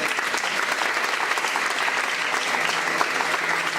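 Church congregation applauding, a dense and steady wash of clapping from many hands that holds evenly for several seconds with no voices over it.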